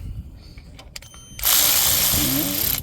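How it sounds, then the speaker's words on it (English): A small ratchet gives a quick burst of clicks while tightening a bolt on a 2016 Fiat 500X alternator, then a loud steady broadband hiss takes over. "Now I can get a little ratchet on here."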